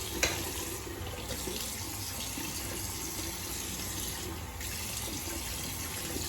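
Warm water runs steadily from a tap into a sink, a constant close splashing hiss with no voices.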